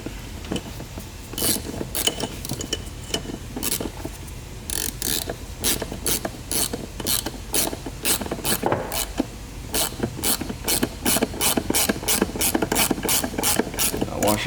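A hand ratchet clicks in steady repeated bursts while tightening a 15mm bolt on a Numeric Racing 964/993 shifter, with loud, close pawl clicks coming in fast runs and short pauses.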